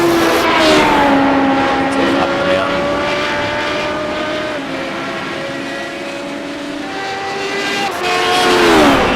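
Several Radical race cars in a racing video game, some doing donuts on grass, their engines droning steadily with harmonic whine that dips and rises, loud and continuous, while a commentator talks over it.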